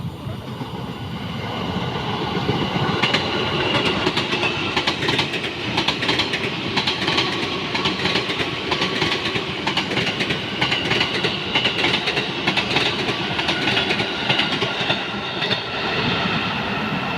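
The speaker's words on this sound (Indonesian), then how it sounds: "KRL ke Cikarang." A KRL electric commuter train to Cikarang runs past at night in Tambun, West Java, a sustained close rumble with rhythmic wheel clatter and faint squeal throughout.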